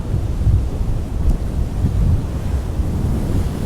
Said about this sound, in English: I love this rough, rough windy weather.